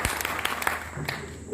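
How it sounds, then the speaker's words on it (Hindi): An audience at a Hindi poetry gathering claps to welcome a young poet, a dense, moderately loud patter of hands that rises and settles over the moment. "आए आप लोग जोरदार तालियों से भाई दीपमन का स्वागत करें"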